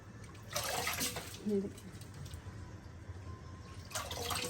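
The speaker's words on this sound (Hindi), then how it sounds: "ये देखें पहले पानी भरती हूँ फिर दिखाती हूँ।" Water runs into a container for washing spinach in a home kitchen, coming in soft splashing bursts separated by quieter gaps, with faint background noise throughout.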